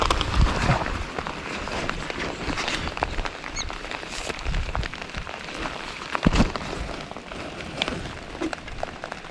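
Rain falls steadily around a lake during a trout fishing outing, a constant soft patter with scattered nearby knocks and rustles, and no one speaking.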